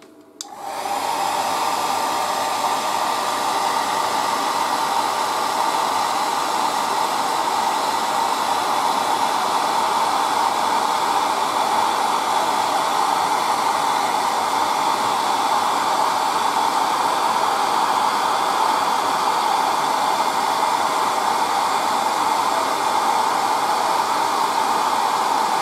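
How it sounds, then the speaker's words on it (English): An air dryer blows steadily on a freshly painted Predator miniature during a quick hobby painting session, a loud, continuous hiss starting abruptly and running unbroken throughout with no talk. "we are using the air dryer again"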